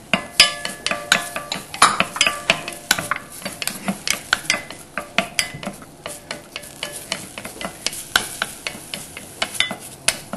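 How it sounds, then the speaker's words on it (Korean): Onion and celery are sautéed in butter in a hot pot, with a bright sizzle under brisk, repeated metal spoon scrapes and clinks against the pot, close and lively, with no one speaking. "버터를 두른 다음에 여기에 양파와 샐러리를 볶아 주세요."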